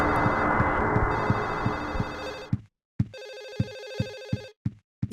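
A telephone rings inside the horror video game Silent Hill 4: The Room, with a long ringing burst, a brief silence, then a second burst of ringing, heard alone and fairly clear.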